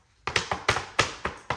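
Knuckles rapping on a house door, with about seven sharp, close knocks in quick uneven bunches and no voices.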